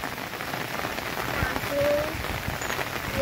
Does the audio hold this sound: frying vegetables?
no